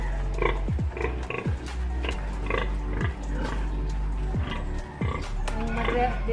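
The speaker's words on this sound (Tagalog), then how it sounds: "Dako yung baboy na guys." Grunts and squeals from a big pig, repeated at irregular intervals over steady low background noise, close and fairly loud.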